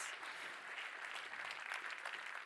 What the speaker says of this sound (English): Give him a warm round of applause for my panelists